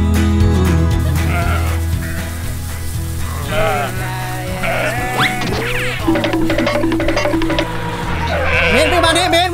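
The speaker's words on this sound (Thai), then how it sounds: "โอ้โหแกะเข้ามา" A flock of around a hundred sheep bleats in a Mae Hong Son, Thailand pasture, with many overlapping bleats near and far and some people talking in between.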